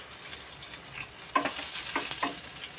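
Dried red chillies and coriander seeds dry-roasting in a pan, a soft crackle with a few light scraping stirs, quiet and close with no voices.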